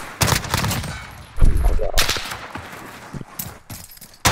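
Gunfire in a video game shooter: loud, sharp bursts of rapid shots arrive in several clusters separated by short pauses, with close automatic fire standing out.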